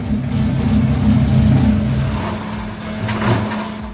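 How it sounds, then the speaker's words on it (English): A carbureted 383 cubic inch engine fitted with a Holley carburetor runs steadily at close range with a low droning rumble, its loudness swelling slightly near the end. "Today we have a carbureted 383 cubic inch engine, which we have set up to diesel."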